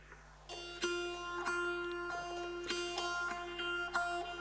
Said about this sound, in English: So that's an acoustic guitar through probably an MXL 990 cheap mic into a phaser pedal and back in